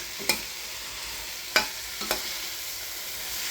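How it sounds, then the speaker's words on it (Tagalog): Tomato and chayote with salt, seasoning and pepper stirred in a frying pan: a soft steady sizzle with three sharp utensil scrapes against the pan, close and alone. "Then, haluin natin siya guys."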